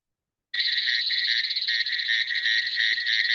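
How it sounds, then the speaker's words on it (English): A cricket frog of the family Dicroglossidae from the Western Ghats of India calls after a moment of silence, a loud, continuous, rapid high-pitched trilling like an insect, close and alone. "They are most common frogs, and they make very loud cricket."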